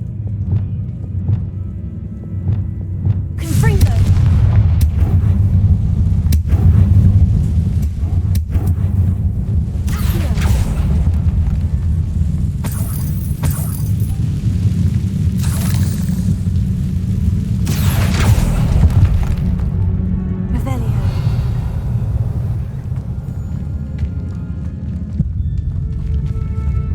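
Confringo fire spells burst in Hogwarts Legacy, heavy booming blasts and crackling debris rolling through a stone interior, with several sharp impacts spaced unevenly over a loud, rumbling bed of game sound.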